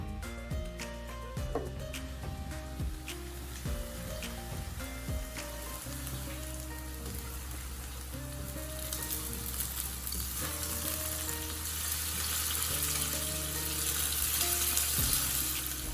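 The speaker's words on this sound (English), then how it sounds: "Meanwhile, in another kadai, sauteed sliced onion and curry leaves in coconut oil." Sliced onion and curry leaves sauté in coconut oil in a kadai, sizzling steadily throughout with scraping stirs and clinks, while water from a nearby tap runs intermittently in the background.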